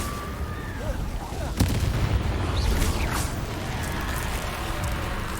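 Confringo fire spell explosions in the Hogwarts Legacy game, heard as a sharp crack and then a rolling low boom and rumble of combat, with whizzing effects in a busy, fairly loud mix.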